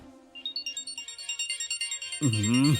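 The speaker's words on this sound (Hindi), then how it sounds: "ए, देख किसका फोन है।" A mobile phone ringtone plays a repeating, pulsing electronic melody in a film scene, and a voice speaks over the ringing near the end.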